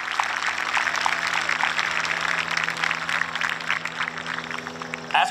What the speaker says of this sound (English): Please join me in giving a round of applause to all of our incredible staff.